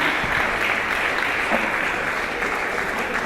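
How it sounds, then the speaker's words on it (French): A crowd claps steadily and densely, a continuous wash of applause from many hands without pause. "Elle mérite aussi d'être applaudie. On l'applaudit, mesdames et messieurs."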